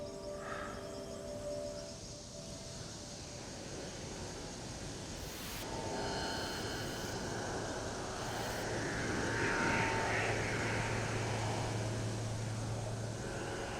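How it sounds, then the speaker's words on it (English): A search airplane flies high overhead, its distant engine drone swelling slowly and steadily, faint beneath a wash of ocean surf, with no one speaking. "Suddenly, this airplane flew out over the top of us, quite high."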